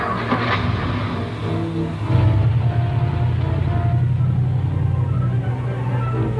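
A car engine hums close by as the vehicle drives along, the low drone rising and steadying after a brief shift, continuous and unaccompanied by talk.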